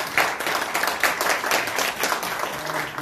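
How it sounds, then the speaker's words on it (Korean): An audience applauds to welcome a speaker on stage at a business forum concert, producing a dense, steady wash of clapping that holds at an even level for about three seconds. "원장님 큰 박수로 맞이해주시기"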